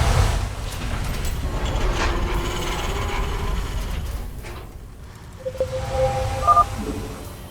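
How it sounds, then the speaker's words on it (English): A train rumbles through the western tunnel in StarCraft 2: Wings of Liberty, a low steady mechanical roar with clanks and rattling, fading slightly before tonal beeps and alert sounds rise near the end. "A train is coming through the western tunnel."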